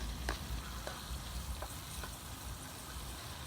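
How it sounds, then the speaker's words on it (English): Garlic frying in a pan for bhaji, a steady broadband sizzle and crackle with occasional stirring clicks, close and even throughout. "Then you want to put in the garlic."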